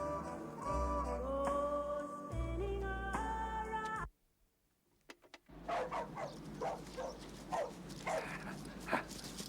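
Dogs bark in a 1991 feature film: a quick run of sharp, fairly close barks follows a stretch of music and a short silence.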